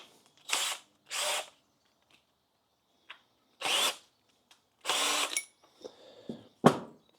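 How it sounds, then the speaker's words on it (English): A handheld power drill working on a cracked plastic kayak, heard in several short whirring bursts of about half a second each, separated by quiet gaps, with small handling clicks and knocks between them, close and fairly loud. "But first I'm going to come over here and get my drill."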